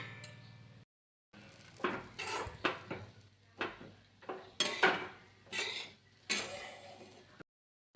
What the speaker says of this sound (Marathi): झाकण काढून घ्यायचे आणि एकदा छान असं परतून घ्यायचं.